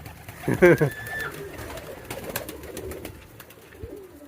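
Homing pigeons coo close by while being fed, a clear burst of cooing at first, then softer, scattered calls with faint rustling.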